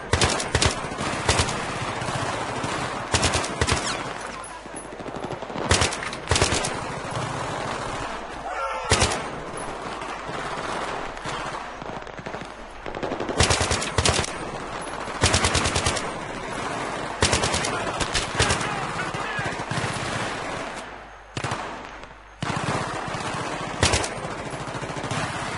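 Gunfire in Battlefield 3: loud, sharp automatic bursts and single shots come in irregular clusters, separated by brief quieter gaps of game ambience, with a voice occasionally underneath.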